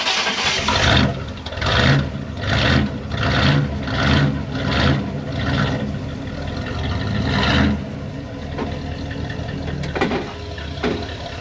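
A classic car's engine pulls away for a cruise, a steady close rumble rising and falling in a series of rhythmic surges before easing off near the end; no one speaks over it.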